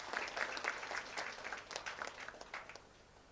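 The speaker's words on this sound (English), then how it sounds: "a round of applause to everyone" Delegates at a national conference inauguration giving a round of applause, a faint, distant patter of clapping that swells early and gradually thins out toward the end.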